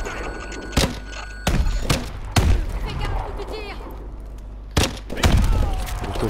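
Gunfire in Call of Duty: Advanced Warfare, with several sharp, heavy shots at irregular intervals over a steady low rumble of game ambience, and voices talking in between.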